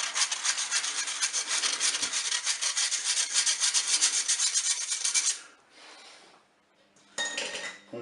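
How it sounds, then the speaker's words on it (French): Flour and baking powder shaken through a metal sieve into a mixing bowl, a close, rapid scratchy rasping that runs steadily, then fades to softer taps and a final short burst, no talking. "posé un tamis sur mon saladier. Je vais mettre la farine et puis ma levure. Et voilà, on va tamiser."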